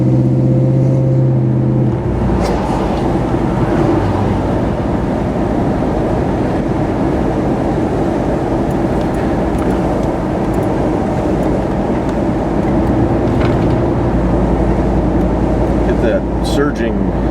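A GMC Jimmy SUV drives along at steady speed, suspected of a dragging brake; constant road and drivetrain rumble fills the cabin, with a low droning tone at the start and a few faint clunks near the end.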